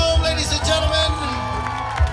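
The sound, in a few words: applause for the bride and groom at a wedding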